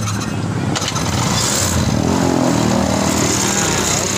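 A Yamaha Xeon motorcycle engine runs steadily after a hose repair, a continuous close-up idle hum with a slight rough texture, holding even throughout without speech.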